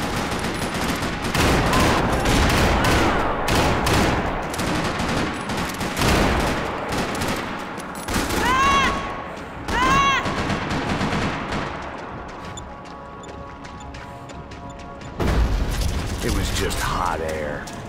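Rapid gunfire and clattering weapon mechanics from the video game Max Payne 3, dense bursts of shots filling most of the stretch, with ricochet-like whines midway and a lull before a final burst, a voice talking over it at times.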